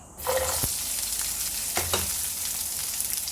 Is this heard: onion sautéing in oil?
yes